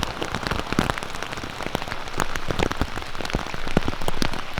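Heavy rain pours down during a reservoir fishing trip, a loud dense patter drumming on nearby surfaces, steady throughout with no voices.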